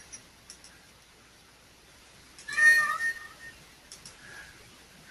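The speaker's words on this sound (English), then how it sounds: "And that's my cat, my apologies." A house cat lets out a single short meow in the middle of an otherwise quiet indoor room, fairly close and clear, with faint background hiss around it.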